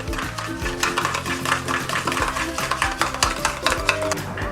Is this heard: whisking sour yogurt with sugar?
yes